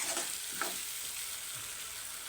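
Tomatoes fry in oil in a pan for a potato and pea curry, giving a faint, even crackling sizzle with a brief stir in the middle.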